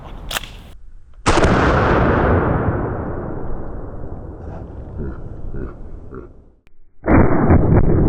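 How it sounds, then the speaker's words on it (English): A 12 gauge Federal PowerShock rifled hollow point slug fired from a Benelli shotgun: a sharp, very loud blast with a long rolling outdoor echo, followed by another abrupt loud burst near the end. "This is the Federal PowerShock rifled hollow point slug. Once again, shooting it out of the Benelli."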